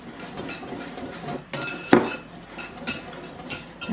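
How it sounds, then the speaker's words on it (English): A hand whisk clinks and scrapes against a bowl while mixing pumpkin puree, sugar, oil, eggs and vanilla, with soft metallic taps and one sharper clink near the middle. "I'll just use my whisk for that one"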